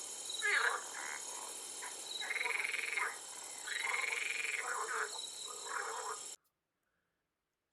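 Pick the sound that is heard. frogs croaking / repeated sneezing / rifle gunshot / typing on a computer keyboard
frogs croaking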